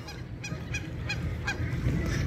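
A large colony of Canada geese honks on a lake in a park, giving repeated nasal calls in an irregular rhythm over a constant low murmur of wind and distant noise, with no talking.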